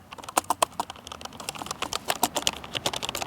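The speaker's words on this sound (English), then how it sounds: "it's a mechanical keyboard" Rapid clicky keystrokes from a mechanical keyboard, irregular bursts of sharp taps close to the mic with no voices.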